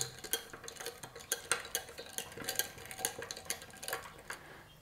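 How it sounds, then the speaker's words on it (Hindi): A spoon clinks and scrapes around a glass while fennel sharbat is mixed, giving a quick run of bright, rhythmic taps close by with no talking. "इसको इस तरह से मिक्स कर लें"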